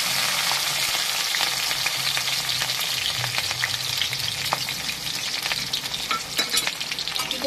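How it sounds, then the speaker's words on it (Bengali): Onion and green chili fry in hot oil for a pangas fish curry, a loud continuous sizzle with crackling pops and occasional stirring clicks, close and uninterrupted by talk. "এবার আমি এতে পেঁয়াজ আর কাঁচা লঙ্কা দিয়ে দিচ্ছি"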